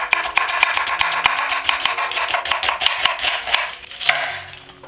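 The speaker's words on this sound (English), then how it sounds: "I'll start with the onion and I'll just give it a slice." A kitchen knife slices through an onion on a cutting board for a beef and broccoli stir fry, giving a quick, steady run of crisp close chopping strokes with no talk.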